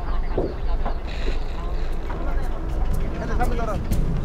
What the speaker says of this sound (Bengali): মাছের ট্রলার মনে হয় এটা।